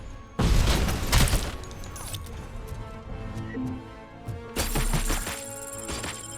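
Loud explosive blasts from thrown grenades in a RoboCop action scene, a heavy burst at the start and another near the end with debris and crashing between them.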